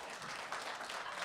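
A brief burst of crowd applause after a breath-and-balance demonstration, a dense wash of clapping, faint and fairly distant, with no voices over it.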